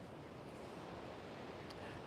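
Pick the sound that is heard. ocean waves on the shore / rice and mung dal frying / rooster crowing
ocean waves on the shore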